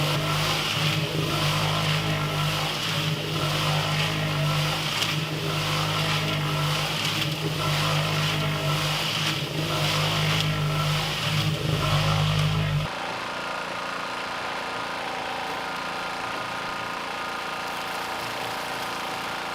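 A Harbor Freight cement mixer churns loudly with a steady motor drone and rhythmic drum pulsing, mixing concrete with microfiber rebar, then cuts off abruptly, leaving only quiet background hum.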